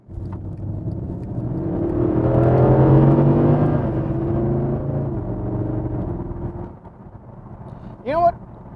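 Mercedes SLS AMG engine revving and pulling under load while driving, a loud sustained roar that builds and holds for several seconds before dropping away, with a brief higher whine near the end.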